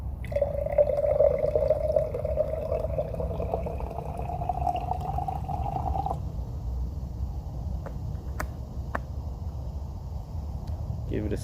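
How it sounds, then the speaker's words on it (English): Mineral water poured into purified water, a steady liquid stream lasting about six seconds before stopping, followed by a few small clinks and drips; fairly close and moderately loud. "spike the purified water with the mineral water"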